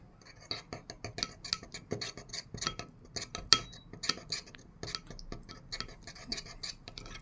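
A metal spoon stirs black seed into honey, clinking and scraping steadily against the container in quick, irregular taps at close range with no talking.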